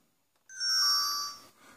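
A Q528 Y21 smart baby watch sounds a short, bright electronic ringtone, a single clear chime-like tone that swells and fades within about a second, alone in quiet.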